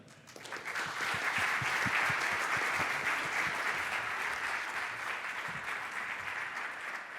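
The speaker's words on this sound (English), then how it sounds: "Let's give these guys a big round of applause" An audience claps for a panel, with applause swelling quickly to a thick, sustained roar of many hands and a few nearer individual claps, then easing slightly toward the end.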